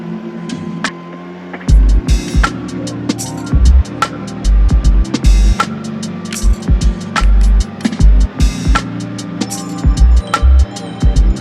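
A gas-powered leaf blower engine revs loudly in bursts while clearing snow in extreme winter conditions, with rhythmic surging throttle pulses close to the microphone.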